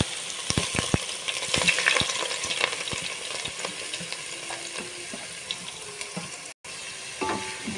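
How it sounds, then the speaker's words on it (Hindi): Onion frying in plenty of oil in a pot for a traditional Goan pork and beef stew, a steady close sizzle crackling throughout, with stirring and scattered spoon taps on the pot. "भरपूर तेल घालपाचें आनी हांव कांदो घालता."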